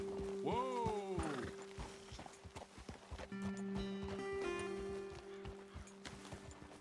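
Horses in Red Dead Redemption 2 clip-clop along in a quick, even rhythm of hoofbeats, with a horse whinnying early on and steady tonal hums running beneath.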